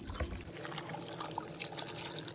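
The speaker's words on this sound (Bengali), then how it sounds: "আর পায়াটা সিদ্ধ হওয়ার জন্য দিব এখন পানি।" Water poured into a pressure cooker over beef or goat trotters with mustard oil for nihari, a soft, steady liquid pour and trickle running throughout at low level.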